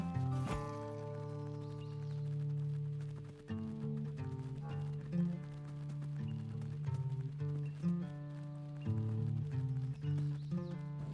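Horse sounds in the Roblox game Sonora: a young horse's repeated clip-clop hooves and whinnies, fairly close and clear, alongside game music with no talking.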